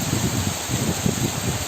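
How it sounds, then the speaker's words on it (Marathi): Sudden first rain of the season falling outdoors in rural Konkan among trees: a constant broadband hiss of rainfall with uneven low thumps and rustles, loud and close, with no talking. "अचानक पाऊस आलाय पटकन."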